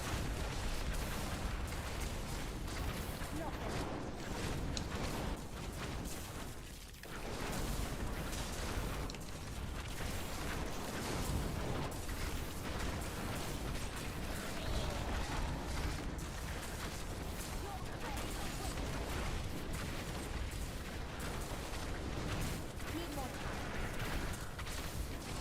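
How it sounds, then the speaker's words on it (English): Dense, continuous barrage of video-game explosions and artillery-like booms from an Xbox game, steady and loud throughout with only a brief dip, no talk evident over it. "That's a lot of explosions."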